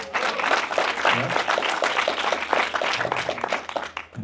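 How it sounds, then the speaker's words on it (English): Applause from the audience at a book signing, dense clapping sustained for about four seconds before trailing off. "That deserves a round of applause"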